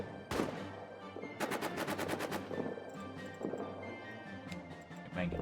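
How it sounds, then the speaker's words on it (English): Gunfire in a hardcore trench warfare video game: a single crack, then a rapid burst of machine-gun fire and scattered shots amid battle noise, with talk over it. "He got shot."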